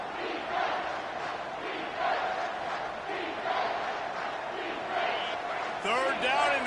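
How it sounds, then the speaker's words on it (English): A stadium crowd in the College Football 25 video game roars as one steady, distant mass of cheering under a commentator's voice, swelling slightly near the end. "Third down, and this crowd is tearing the lid off this place."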